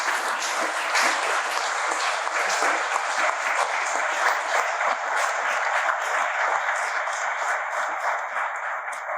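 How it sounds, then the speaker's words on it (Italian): Audience applause at a political meeting in Vigonza, Veneto, a dense, steady clapping from a large crowd that holds evenly at full strength throughout, with no speech over it. "Questo applauso lo faccio finire perché non era per me, era per Francesco."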